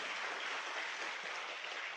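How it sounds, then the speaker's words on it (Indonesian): An audience at a motivational talk breaks into steady applause, a dense, even rush of many hands clapping at moderate distance with no voices over it. "jadi ya silakan kamu tepuk tangan"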